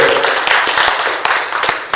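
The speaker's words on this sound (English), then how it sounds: "So give her a big round of applause, please" Applause at a networking association launch event, a crowd clapping with many close, sharp claps over a rushing bed of sound, steady throughout.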